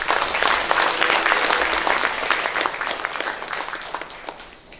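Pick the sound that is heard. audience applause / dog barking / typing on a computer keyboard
audience applause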